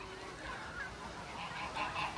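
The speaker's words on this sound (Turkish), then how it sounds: "Şurada da yine bol miktarda ördek, kaz" Geese and ducks honk in an outdoor nature park in Tarsus, with several rising calls overlapping against steady open-air background noise, moderately close and continuing throughout.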